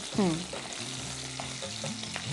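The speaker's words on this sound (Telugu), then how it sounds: "క్యాప్సికమ్ ముక్కలు కొంచెం సాట్ అవ్వాలి, కొంచెం మెత్తబడినట్టుగా." Capsicum pieces and onions sautéing in a pan with a steady sizzle and occasional stirring scrapes, close and continuous, with a brief faint voice early on.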